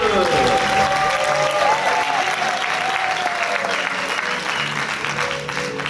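Applause from an audience at a public event on security, a dense steady wash of clapping that carries through the whole stretch and eases slightly toward the end.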